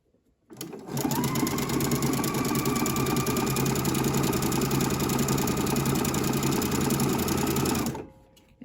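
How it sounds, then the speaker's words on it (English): A sewing machine stitches elastic along the picot edge of a bralette, starting after a short pause, then running in one steady, close, loud whirring burst before stopping near the end. "I'm stitching on the picot edge side."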